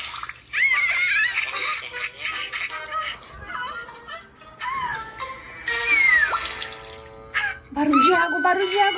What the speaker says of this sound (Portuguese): Barulho de água. Ela tá gritando.